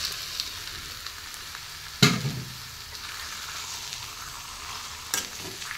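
Chicken frying with deep-fried onions in a pan: a continuous close sizzle broken by two sharp stirring clanks of a spoon against the pan, with no talk over it.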